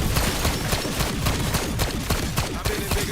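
Rapid sustained automatic gunfire from the Tsarkov 7.62 in Black Ops 6 Zombies, a dense loud continuous burst of shots lasting a few seconds without pause.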